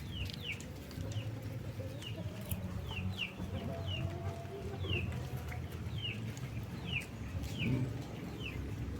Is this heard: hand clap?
no